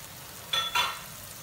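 Dried loitta fish with chopped garlic being stir-fried in a pan, giving two short bursts of sizzling and stirring over a quiet background.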